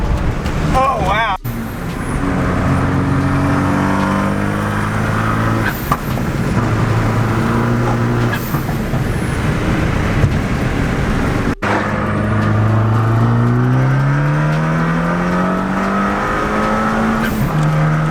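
A Fiat 500 with upgraded valve springs pulls hard through the gears from inside the cabin, its engine note climbing steadily in several long rising sweeps, with short breaks at each shift, over constant road noise.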